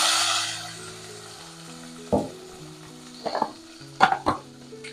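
Mustard seeds, fenugreek, capsicum and chili frying in oil, a strong hiss that fades into a low crackle, broken by a few louder scraping stirs near the end.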